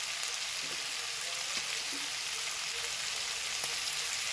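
Coconut rice sautéing in a pan over a low flame, a steady soft sizzle and hiss throughout with a few faint stirring clicks, close and even.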